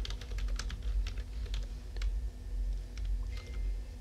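Rapid typing on a computer keyboard while entering an Excel formula, a close, steady patter of crisp key clicks with a low hum underneath and no voices.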